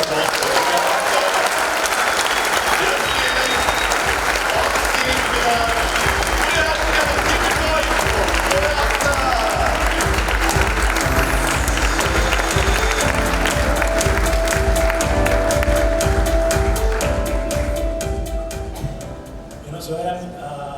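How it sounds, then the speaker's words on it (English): A large summit audience gives a long, sustained round of applause for India's Oscar-nominated film at a Facebook industry event, dense clapping that thins out near the end while talk and cheering mix in. "Can we have a big round of applause for"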